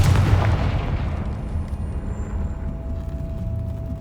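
A Confringo spell blast in Hogwarts Legacy, a loud booming explosion at the start that rumbles and decays into a lingering low roar.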